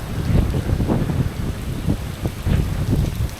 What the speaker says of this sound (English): Very windy today, very windy.